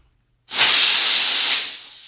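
Air bursts suddenly from a tubeless mountain bike tire valve in a loud, close hiss that holds steady for about a second before tapering off.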